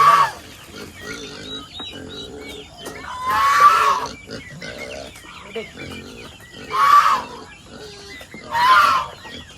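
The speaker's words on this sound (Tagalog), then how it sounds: "Ito mga baboy" Farm pigs in the rural Philippines grunt and squeal, with several loud shrill bursts among lower grunting and a few other animal calls nearby.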